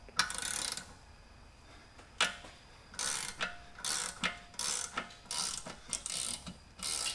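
Ratchet wrench working a bolt loose on a BMW E36 with a 2JZ engine, quick bursts of close, crisp clicking in an uneven rhythm with short gaps between strokes, quiet apart from the tool, no talking.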